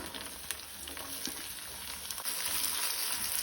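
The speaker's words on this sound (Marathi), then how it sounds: "लसूण तळसून जाले तशी तातूंत हांव कांदो घालता।" Chopped onion fries in oil in a pan over a medium flame, with a dense, continuous close sizzle and light crackle throughout.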